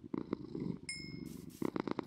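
A Minecraft cat purrs in low rough bursts, a brief high chime sounding midway, the purring close and fairly loud with no talk over it.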